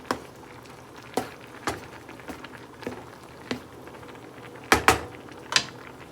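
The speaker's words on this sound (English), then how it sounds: "Get our pasta stirring." Orzo pasta stirred in a pot for a Parmesan orzo dinner, heard as a series of scattered spoon scrapes and taps at an irregular rhythm over a low background, with no talking.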